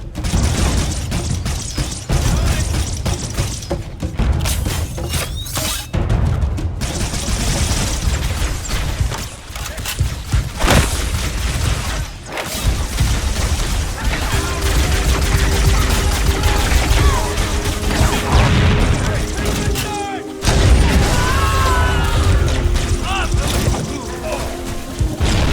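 Sustained battle fire in Halo: Combat Evolved, with dense booms, bursts and pops rolling under shouted soldier dialogue for the whole stretch, loud and close with few pauses.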